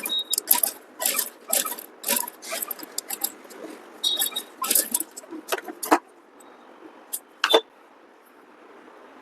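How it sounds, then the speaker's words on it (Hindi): A sewing machine stitches a reinforcing seam on the main fabric of a garment, short close bursts of rapid stitching broken by pauses, with light handling clatter in between. "नेक्स्ट यहाँ पर मजबूती और फिनिशिंग के लिए धार सिलाई लगाएंगे मेन कपड़े में।"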